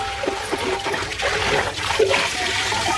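Water splashes and pours inside a metal cooking pot as it is rinsed out, a continuous close-up gush and slosh with no voices.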